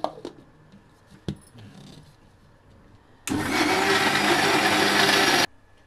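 A mixer grinder runs hard for about two seconds, grinding boiled Maggi noodles and rava into dosa batter, a loud steady whir that starts and stops abruptly after a few faint kitchen knocks.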